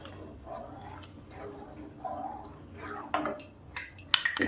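A spoon stirring milk in a pan, with soft liquid swishes and faint metallic scrapes, then a few sharper clinks of spoon against the pan toward the end, close and quiet.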